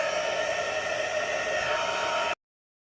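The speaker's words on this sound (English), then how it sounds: "I'm just going to hit it with my heat tool on setting 1" A heat tool on its lowest setting blows in a steady, loud whooshing roar with a whiny motor tone, running evenly for about two seconds before cutting off abruptly into silence.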